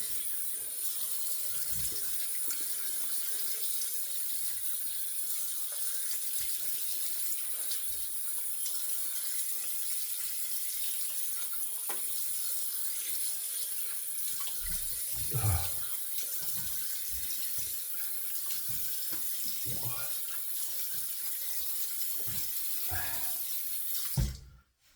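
A bathroom tap runs steadily into a sink to rinse an aluminum safety razor, a constant close hiss of flowing water with occasional faint splashes and clinks, ending abruptly when it shuts off.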